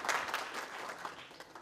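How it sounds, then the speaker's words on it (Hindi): A theatre audience at a stage production gives a brief burst of applause, a soft, distant wash of many hands clapping that fades slightly over under two seconds. "एक बार जोरदार तालियां"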